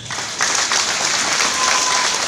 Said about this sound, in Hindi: हमारे great upline mister Mohan sir, एक जोरदार तालियां होनी चाहिए